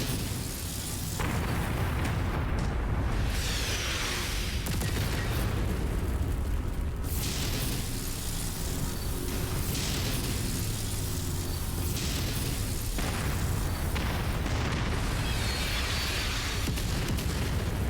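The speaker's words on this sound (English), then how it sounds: "there's a lot of artillery in this one" Artillery explosions in MechWarrior 5 roll into one another as a dense, continuous wall of booming blasts and rumble, loud throughout with no pauses.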